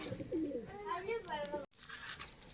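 Pigeons coo softly at a pigeon loft in Kozhikode, low rolling calls close by with a person talking over them.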